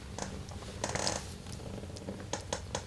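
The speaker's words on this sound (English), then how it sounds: "the Sphinx cat" Close, soft purring from a hairless Sphynx cat, a low steady rumble running through the whole stretch with a few brief rustles and light handling noises on top, recorded up close in a quiet room.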